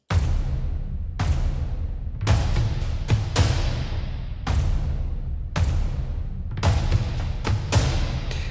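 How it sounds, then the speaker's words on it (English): Layered cinematic percussion hits in an irregular rhythm, deep booming drums with bright crashing accents and decaying tails, loud and without voices. "All together, the percussions sound like this."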